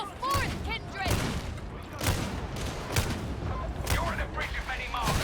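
Gunfire rings out in the video game Warhammer 40,000: Darktide as a series of booming shots roughly once a second over dense battle noise, with voices and a soft whining tone mixed in.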